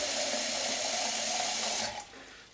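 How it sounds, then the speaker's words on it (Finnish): Water poured steadily into a pot outdoors at a hunting lodge, a loud, continuous close rush of running water that stops abruptly near the end, leaving a quieter trickle, with no talk. "Sille laittaa sitä vettä, että se näkyy tuossa pinnalla suurin piirtein vähän lännä."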